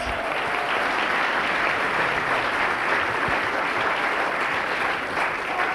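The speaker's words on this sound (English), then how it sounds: "let's give them a round of applause" Sustained audience applause at an evening program on a campus in Cabella Ligure, Italy, a dense, even wash of clapping from a large crowd that holds steady throughout.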